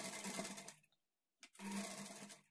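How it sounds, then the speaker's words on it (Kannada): A sewing machine stitches piping on a lined blouse in two close bursts of rapid mechanical clatter, split by a short silent pause. "ನೋಡಿ ಇಲ್ಲಿ ನಾನು ಪೈಪಿಂಗನ್ನು ಸ್ಟಿಚ್ ಮಾಡಿ ಆಯಿತು"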